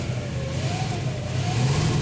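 A 1957 Chevrolet Corvette engine revving close by, a deep steady rumble that climbs in pitch and swells near the end, with no voices over it.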